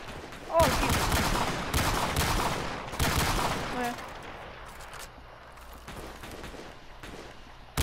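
Bursts of automatic gunfire from a game weapon in Call of Duty: Modern Warfare Remastered, loud rapid volleys in the first four seconds, then quieter scattered shots and game noise, with a player talking over it.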